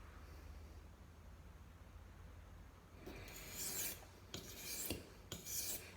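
Rasping strokes of a Browning pocket knife blade on a wet sharpening stone, quiet and close, come in a few uneven bursts after a stretch of near silence.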